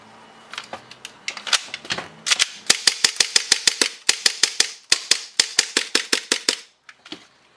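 An EDGE lightweight blowback airsoft unit feeds and fires BBs in a fast string of sharp, snappy cracks, close and loud, with brief pauses between bursts.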